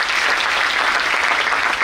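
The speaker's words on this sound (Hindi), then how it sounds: "एक बार ताली बजाओ" Audience applause at a motivational seminar for chartered accountancy students, dense steady clapping from a crowd filling the room throughout, with no talk over it.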